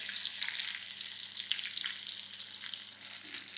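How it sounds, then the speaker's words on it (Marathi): Mustard seeds sizzle and crackle in hot groundnut oil during tempering, a dense, steady hiss with scattered small pops. No one speaks. "आणि शेंगदाण्याच्या तेलामध्ये याला फोडणी द्यायची आपल्याला."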